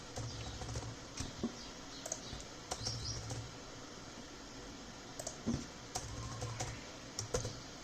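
Keystrokes on a computer keyboard as code for a student result entry page is typed, coming in short irregular bursts of light clicks at close range with pauses between runs, no talking.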